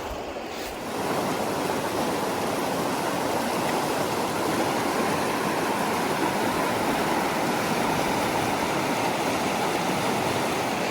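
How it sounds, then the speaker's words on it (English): A rain-swollen creek flows past at close range, a dense, steady rushing and gurgling of water that starts just after a brief quieter moment and continues without pause, with no voices. "just a good flow going in the creeks"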